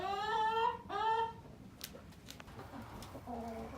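Chickens in a hen house give two drawn-out, crooning clucks close by, followed by quieter rustling and a softer call at the end.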